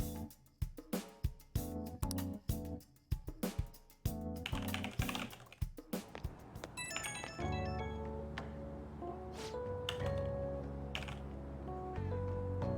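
Rapid keyboard typing sound effect in the video game Persona 5 Royal, dense clattering keystrokes for several seconds that give way to soft game music.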